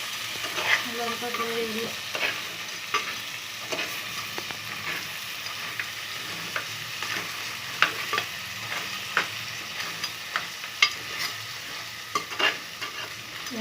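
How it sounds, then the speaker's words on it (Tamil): A spoonful of fenugreek seeds fries in a pan for crab curry, a soft continuous sizzle punctuated by frequent scraping clicks of stirring, close by, with one brief spoken word. "ஒரு ஸ்பூன் வெந்தயம் எடுத்துருக்குறேன். அதில் போடுவோம்."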